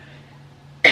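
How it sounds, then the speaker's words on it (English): A person with a sore throat coughs once, a sudden close burst at the very end after a near-silent moment. "Now that I've said that, I need to cough,"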